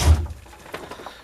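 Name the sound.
door being pulled shut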